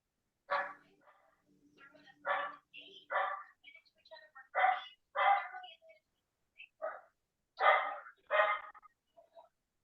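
A puppy barks in short, sharp bursts, about a dozen yips and barks spaced irregularly across the stretch, close and clear against a quiet background, with no talking.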